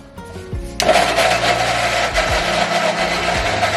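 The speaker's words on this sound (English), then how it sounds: "So now we blend the tomatoes." A blender whirs through organic tomatoes for homemade sauce, cutting in abruptly loud after a short thump and holding a steady, dense motor roar to the end.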